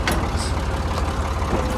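A tractor engine rumbles steadily nearby, a low, continuous diesel drone with no pauses, heard on its own after the tractor has pulled free from a trolley stuck off the road.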